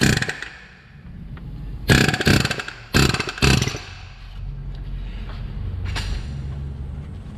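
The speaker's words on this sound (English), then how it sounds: "now we're gonna use an air chisel to crack the nut loose here for the fan clutch" An air chisel hammers at the fan clutch nut on a Chevy Colorado during water pump work, firing in a few loud, rattling bursts against a low background hum.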